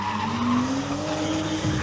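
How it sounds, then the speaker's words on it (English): S13 Nissan Silvia drift cars slide with loud continuous tire squeal and skidding over a droning engine, one sustained screech lasting the whole moment. "Same cars, different drivers drifting well."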